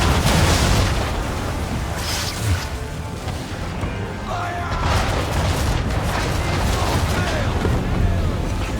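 Ship cannons fire in the Assassin's Creed 3 naval battle, heavy booms and crashing blasts layered over constant roaring wind, sea and battle noise, with shouting voices in the mix.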